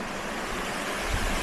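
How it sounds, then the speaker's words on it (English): A stream rushes and gurgles at the top of a waterfall, a dense, steady wash of flowing water close by with no voices. "So we're right at the top of the waterfall here,"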